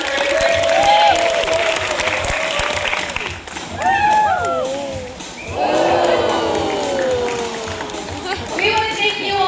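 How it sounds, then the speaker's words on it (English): Audience applause and cheers at a sea lion show at the St. Louis Zoo, with sea lion barks and a presenter's amplified voice rising over the clapping crowd. "Let's give them one last round of applause for everybody today."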